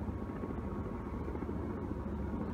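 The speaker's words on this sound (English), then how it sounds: "Helicopter in the background." A helicopter drones steadily in the background near Hoover Dam, where tour helicopters fly, as a low, continuous rumble that stays even and distant throughout, with no talk.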